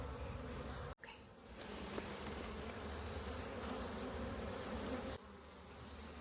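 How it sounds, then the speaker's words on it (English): Honey bees swarming around a dune buggy during a bee removal, a dense, steady buzzing hum close by, with a couple of brief knocks breaking in. "There are definitely a lot of bees collecting back on the Dune Buggy"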